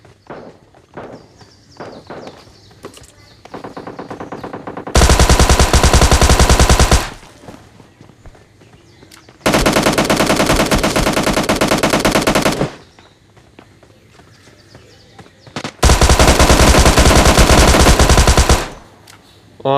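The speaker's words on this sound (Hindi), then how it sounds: "क्राउच में फायर किया, इस कारल वाला मेरे को बस एक ही गोली मार पाता है" Long, dense bursts of automatic SMG fire in the PUBG video game, three sustained loud volleys lasting several seconds each, separated by quieter stretches of in-game footsteps and scattered single shots.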